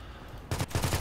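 Rapid bursts of automatic gunfire in a first-person shooter video game, a quiet lull followed by a close, loud string of about six sharp shots.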